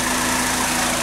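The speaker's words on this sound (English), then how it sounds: "Compressor is working." Car engine idling with the air conditioning compressor running during an AC pressure check, a loud steady close drone with an even hum and no talk.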